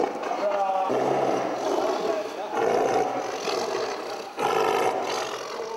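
Tigers in a circus training setting give loud roars and snarls of displeasure, several bursts in quick succession over rough background noise.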